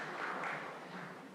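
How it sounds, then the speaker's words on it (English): Audience applause for panelists at a health conference: a soft, steady wash of clapping, moderately distant, fading slightly toward the end. "a round of applause for the panelists"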